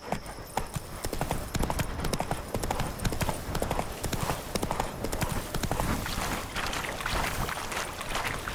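Roach, the horse in The Witcher 3: Wild Hunt's Blood and Wine expansion, gallops hard with loud, close, rapid clip-clop hoofbeats in a steady driving rhythm that runs the whole way through over game ambience.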